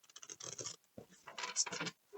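Close, quiet papery riffling and scratching in short bursts as new tarot cards are shuffled, pausing briefly before another flurry of shuffling.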